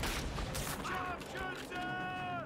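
Rifle gunfire in the Call of Duty: Finest Hour video game, several sharp shots in the first second followed by a steady din of battle, with voices talking over the action.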